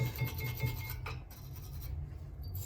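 Scratchy rasping of a brush scraping metal brake clips on a car's front brakes, steady and close, with a low hum underneath and a brief pause midway.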